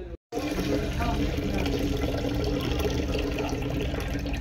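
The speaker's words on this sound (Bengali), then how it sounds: "তো মোটামুটি 3-4 বার এরকম করে পরিষ্কার করে জলে আমি ধুয়ে নেব।" Red lentils are swished and rinsed in water, making a continuous close sloshing and splashing wash after a brief cut near the start.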